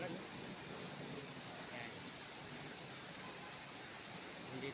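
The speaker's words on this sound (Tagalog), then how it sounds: "Grabe lakas ng ulan." Heavy rain pours on a street in Quezon City, a steady, quiet broadband hiss that holds without a break, with a person briefly speaking over it.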